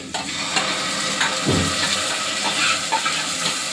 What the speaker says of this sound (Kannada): ಈರುಳ್ಳಿ ಹಾಕಿದ್ದೀನಿ ಸ್ವಲ್ಪ ಫ್ರೈ ಆಗಲಿ